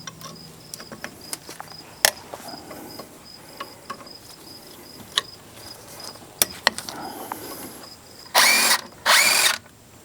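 Two 14 mm caliper bolts come off the front brakes of a 2002-2006 Toyota Camry: two short, loud bursts of tool noise near the end, after scattered light clicks and taps over a steady background hum.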